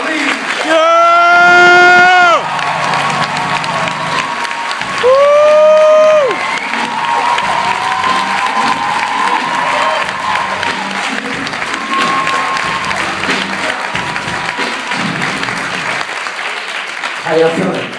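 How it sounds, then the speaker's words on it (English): Audience at a concert at the Missouri History Museum applauds and cheers loudly and steadily, with whoops and shouted voices riding over the dense clapping throughout. "Thank you for that rousing round of applause."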